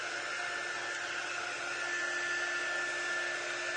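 A hand-held dryer blows steadily over a painted craft project, a constant close whirring hum with a fixed tone that never varies.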